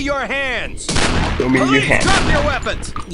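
Gunfire from the tactical police shooter SWAT 4 in co-op play, sharp bursts of shots close by, mixed with overlapping talk and voices.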